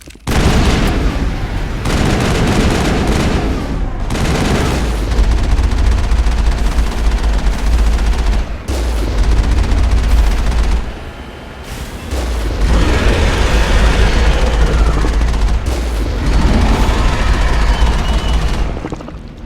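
Rapid automatic gunfire and heavy booms fill a Mass Effect firefight, loud sustained bursts broken by brief pauses, with a sharp lull near the middle before the shooting resumes.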